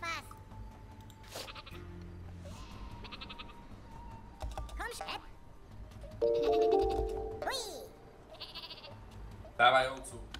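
Bleating from the sheep weapon in the Worms video game, a few short animal calls amid game effects and people talking over it, ending in a louder burst.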